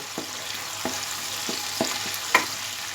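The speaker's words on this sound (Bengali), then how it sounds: "গ্যাস মিডিয়ামে রেখে আমি পেঁয়াজটা হালকা কালার আসা পর্যন্ত ফ্রাই করে নেব" Chopped onion fries in a pan over a medium gas flame, giving a steady, close sizzle broken by a few sharp stirring clicks.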